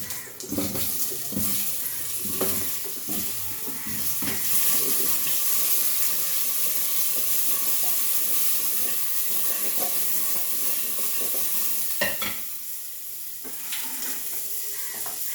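Potatoes and kohlrabi fry with cumin, bay leaf and garam masala in a pan, giving a loud continuous sizzle and hiss with faint stirring scrapes, briefly dipping near the end.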